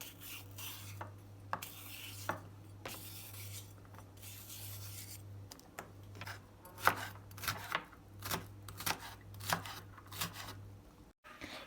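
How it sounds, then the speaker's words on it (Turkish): A knife chops small onions and garlic cloves into tiny cubes on a board, with irregular soft taps and scraping strokes, quiet and close, over a faint steady hum. "İki tane minik soğanımı ve 2-3 diş sarımsağımı da doğruyorum."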